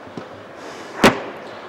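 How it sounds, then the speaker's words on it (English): A single sharp door slam of a Bailey Discovery D4-2 caravan with GRP sides, loud and close, cutting through faint background noise. "I'm going to be courteous and shut the door for them."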